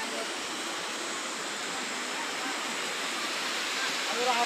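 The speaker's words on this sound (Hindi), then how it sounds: "और फिर हमें दिखा ये झरना जो कि बहुत ही ज़्यादा ब्यूटीफुल लग रहा है।" A mountain waterfall along the trek to Kedarnath in Uttarakhand, with water falling from the hills after rain, gives a steady, loud, full rushing roar that holds constant throughout.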